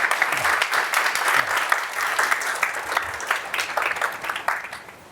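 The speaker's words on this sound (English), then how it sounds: "So let's give him a round of applause." A lecture hall audience applauds at an information theory school lecture, dense clapping that is moderately loud and steady, tapering off at the end.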